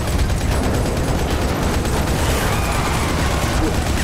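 Dense, continuous gunfire from the mobile shooter Modern Combat 5 fills the clip at steady loudness, rapid shots blurring into a constant crackling roar with no pauses.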